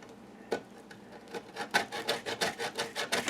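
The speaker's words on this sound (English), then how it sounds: "It's almost grating like a powder." Dried bar soap is scraped against a grater for homemade laundry soap, giving dry rasping strokes that start sparse and build into a steady, rhythmic series of close, crisp scrapes.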